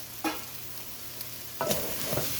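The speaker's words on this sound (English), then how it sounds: "So the eggplant and the zucchinis go in now." Eggplant and zucchini for a vegan vegetable curry sizzle quietly in a pan, with a few short clattering bursts as the vegetables are stirred.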